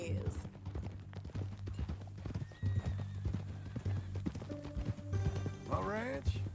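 Horse hooves clip-clop steadily in Red Dead Redemption 2, with a loud whinny rising near the end over low game ambience and a steady hum; brief voices are heard in between.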